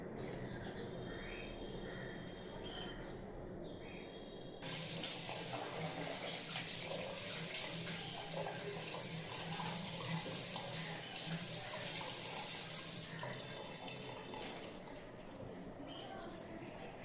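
Tap water runs steadily while a face is washed at a sink during a morning routine, a loud hiss that swells after a few seconds, holds for about eight seconds, then eases back to softer room sound.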